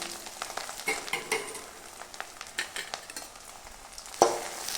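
Brinjal and small shallots frying in foaming castor oil, stirred with a spoon that clicks and scrapes against the pan in irregular strokes over a soft, close sizzle.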